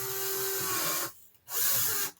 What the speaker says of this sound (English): a lot of times I'll just use my electric drill